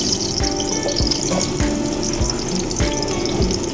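Ginger sizzles in hot cooking oil in a pan, a steady crackling fry with faint periodic clinks or taps, close and moderately loud with no talking.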